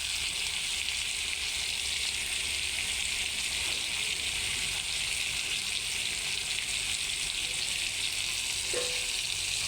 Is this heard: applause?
no